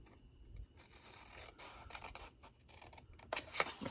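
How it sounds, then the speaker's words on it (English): Heavy cardstock being trimmed while making a Halloween treat bag: a steady run of close, dry cutting and rasping strokes for about four seconds, with no talking. "So now we're going to do a little bit of trimming."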